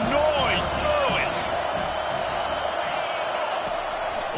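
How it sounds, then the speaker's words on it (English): Football stadium crowd noise at a Gophers versus USC game, a broad roaring wash of fans with whistling whoops early on, steady and loud throughout the stretch. "This crowd bringing the energy and noise early."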